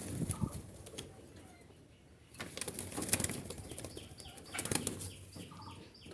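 Jalali pigeons flap their wings in several bursts close by, with a few soft coos between the flurries of fluttering, while faint background noise continues throughout.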